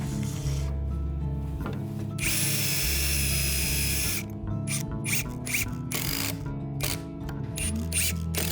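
A power tool drives screws through a preset baseboard straight into wooden flooring during a carpenter's room renovation, with repeated buzzing whirs and grinding bursts that start and stop close by, and no talk.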